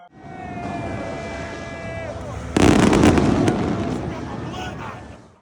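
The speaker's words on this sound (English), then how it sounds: "After the game, an amazing fireworks show." Fireworks show after the USC vs Louisville Holiday Bowl football game in a San Diego stadium: a loud burst hits midway through, followed by crackling and rumbling, with whistling rising tones before it.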